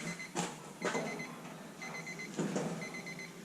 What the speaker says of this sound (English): there goes our timer